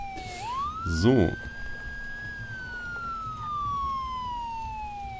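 Police car siren in the Enforcer video game, a loud wailing tone that climbs sharply, holds high, then slowly falls across the clip, with someone briefly speaking over it.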